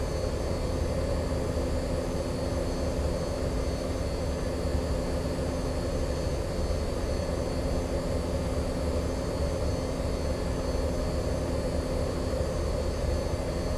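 Simulated MD-80 airliner in flight from San Francisco to Seattle in X-Plane 11, a steady loud jet engine drone with a constant hum and roar, unbroken and alone without any voices.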